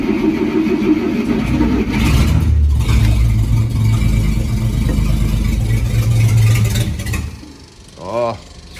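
The slant six engine of a Dodge D300 dually truck cranks and turns over in a sustained rough churning with an electric fuel pump connected, loud and close, then dies away; a voice speaks briefly near the end.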